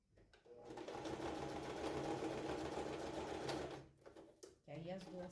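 A domestic sewing machine stitches a men's toiletry bag with a steady, fast mechanical whirr and needle clatter for about three seconds, then stops briefly and restarts, with quiet speech around it.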